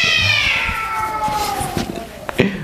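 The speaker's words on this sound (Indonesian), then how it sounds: "Bentar, kucing gue berantem." Cats fighting with each other, loud drawn-out meows and yowls that slide downward over a couple of seconds, ending in sharper scuffling cries close to the microphone.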